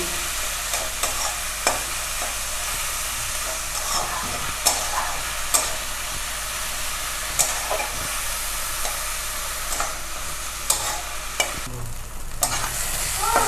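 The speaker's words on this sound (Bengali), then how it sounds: "এবার এটাকে নেড়ে" Mushrooms with salt and turmeric sizzle steadily in hot oil while a spatula stirs them, giving a constant frying hiss broken by sharp scraping clicks, close and alone with no voices.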